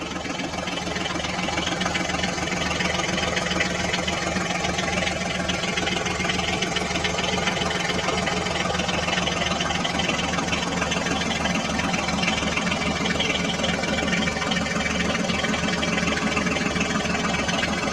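A toy farm tractor's motor strains to pull out of mud, giving off a steady, loud, buzzing drone that holds unbroken for the full eighteen seconds, with no voices.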